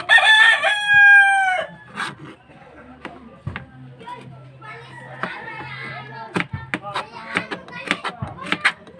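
A rooster crows loudly and close at the start, followed by scattered chicken clucks and squawks in a kitchen setting while someone talks over them.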